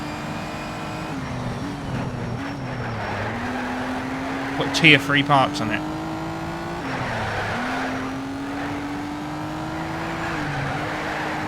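Engine of a tuned race car in the video game Need for Speed: Shift on PS3 drones steadily, pitch climbing and dropping through gear changes, with brief tire squeals midway and someone talking over it.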